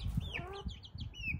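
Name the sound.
chickens clucking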